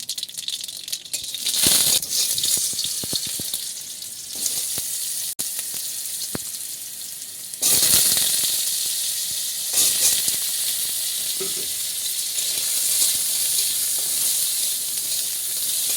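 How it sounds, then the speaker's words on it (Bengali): Sputtering, crackling fizz of spices or ingredients bursting in hot mustard oil while chutney is cooked, a steady broadband hiss with sharper pops and louder surges, close and continuous with no talking. "ফটফট করে ফুটছে"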